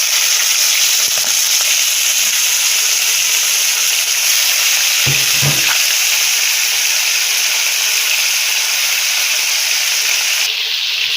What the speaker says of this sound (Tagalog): So, ayan guys, medyo naprito na yung chicken.